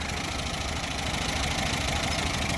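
A Fiat 125p militia car idles steadily up close, its engine running at a constant even drone with a slight ticking from a worn exhaust valve, and no voices over it.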